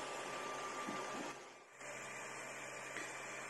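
An ERYONE Star One 3D printer at work, a steady mechanical whir and hum with faint stepper tones that dips briefly partway through before resuming at an even, close level.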